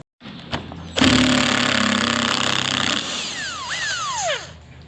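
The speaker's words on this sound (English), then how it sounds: "Just going to grab a grinder." A power grinder starts abruptly and runs loud and steady close by, its harsh high whine holding for several seconds before a sweeping pitch drop and rise as it spins down, on a farm while working on a bull.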